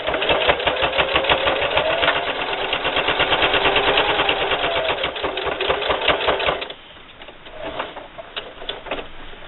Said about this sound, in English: I'm over here at my sewing machine